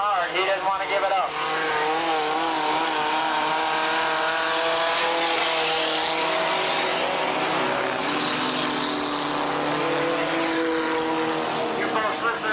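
At Tonopah Speedway in 1989, a race car engine howls under full throttle through the turns, loud and continuous, with its pitch rising and falling as it passes. An announcer talks throughout over the roar.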